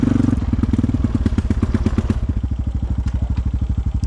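A Honda motorcycle with nitrous fitted revs hard on a rich fuel map, its engine firing in a rapid, loud, close-up pulsing beat that sounds uneven and bogging as the revs hold.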